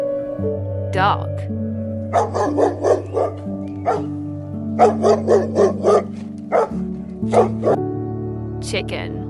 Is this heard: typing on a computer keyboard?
no